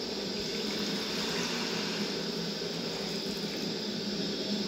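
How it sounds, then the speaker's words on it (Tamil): Steady, continuous splashing of water poured into a pan, a constant rushing flow with no talking. "மேலே இப்போ நம்ம தண்ணி ஊற்ற போகிறோம்."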